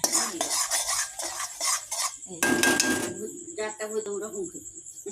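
A spoon scrapes and clinks against a pot as spices fry for khichuri, with steady stirring and a burst of sizzling midway, close and fairly loud.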